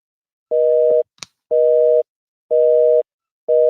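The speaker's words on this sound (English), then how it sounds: "And the phone was busy." Telephone busy signal on an unanswered call: steady tone bursts about half a second long, repeating at regular one-second intervals, clear and close, with a brief click between the first two.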